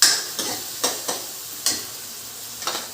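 A spoon stirs onion, tomato and garlic-ginger paste frying in a pan, six or so sharp scraping strokes at an uneven pace over a soft, steady sizzle, close and clear with no talking.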